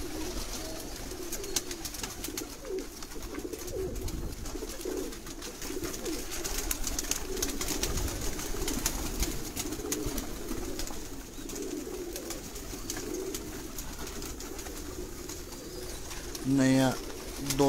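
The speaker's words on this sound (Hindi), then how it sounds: "दाना डालते साथ साथ दोस्तों को थोड़ा बर्ड्स का शो करवाया जाए" Pigeons on a rooftop in Sialkot coo softly and repeatedly while grain is scattered for them, with a faint voice and background noise underneath.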